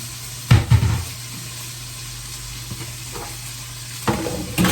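Steak searing in a covered pan, a steady low sizzle close by punctuated by a couple of louder thumps and clatters of the pan or lid near the start and end.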